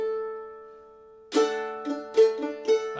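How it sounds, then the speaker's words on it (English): A ringing mandolin chord sustains, then a bright strum followed by a few quick picked notes rolling upward in an arpeggiated run, in an Irish jig rhythm, close and clear. "I would do a strum on the first of the groups of 3"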